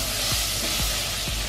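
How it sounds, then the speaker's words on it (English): Butter sizzles in a hot pan with a steady, close hiss, and soft low pops or thumps come at regular intervals beneath it. "Sizzling away."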